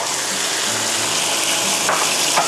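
Pork with crispy squid and fresh shrimp stir-fries in a hot pan, giving a loud, steady sizzle with a few brief scraping stirs toward the end.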